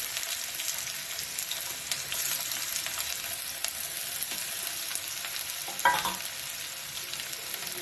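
Onions frying in hot oil and ghee for pepper chicken gravy, a steady crackling sizzle throughout with one brief stir or clink partway through, no talking.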